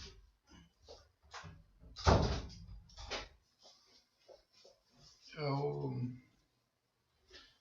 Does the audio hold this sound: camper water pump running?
no